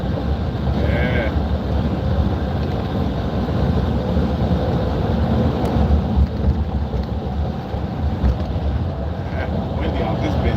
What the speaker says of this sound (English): Out here windy today.